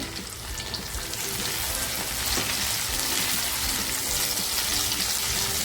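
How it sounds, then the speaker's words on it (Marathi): Chopped tomatoes hit onions frying in hot oil for a restaurant-style veg Kolhapuri, giving a loud, steady sizzle with crackling and some stirring throughout. "कांदा आपला साधारण लाल होत आलाय टॅमॅटो टाकते"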